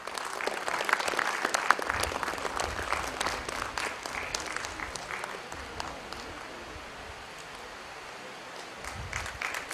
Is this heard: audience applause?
yes